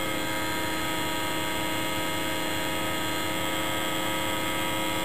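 A power supply running a test rig with a dial gauge gives a constant, steady electrical mains hum, close and unchanging throughout, with no talk.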